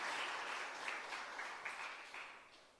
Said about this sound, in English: Can we have an applause for the...